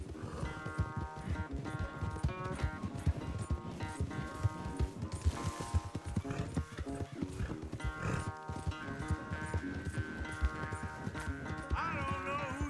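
Rapid clip-clopping hooves of galloping horses racing in Red Dead Redemption 2 drum under a swelling musical score, with a horse's whinny breaking through midway.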